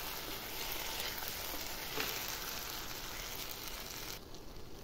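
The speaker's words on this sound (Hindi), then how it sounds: "इसे डालने के बाद आप अच्छे से मिक्स कर लीजिए।" Masala paste being mixed into cooking ridge gourd in a pan: a loud, dense, continuous sizzle with faint stirring, close up and alone without talk.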